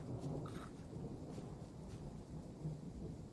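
Thunderstorm in Train Sim World 3 on the Edinburgh to Glasgow route, a low continuous rumble of thunder under steady rain, fairly loud and unbroken, with no voices.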